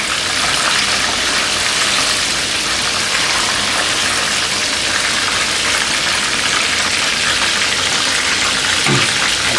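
Pork deep-frying in oil at about 180 degrees for black-vinegar sweet-and-sour pork, a loud, continuous dense hiss of bubbling oil with no pauses and no talk.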